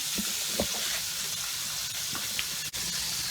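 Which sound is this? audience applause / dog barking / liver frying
liver frying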